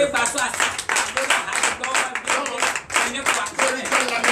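A church congregation at a Sunday service in Comè, Benin, applauding the choir helpers: rhythmic, fairly close clapping in a steady beat, with voices talking over it.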